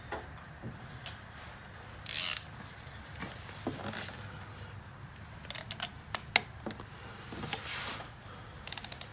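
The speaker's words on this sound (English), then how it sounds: "So I'm going to go ahead and torque it using that method right now" While a spark plug is torqued on a 2004 Saab 9-3, a ratchet gives sparse clicks and scattered short bursts of sharp clicking close by, with quiet gaps between them.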